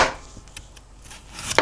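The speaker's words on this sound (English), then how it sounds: "So what you can do is just cut little slices" A knife slices peeled carrots and daikon into thin pieces on a cutting board, with a few sharp chops at the start and end and lighter taps between them.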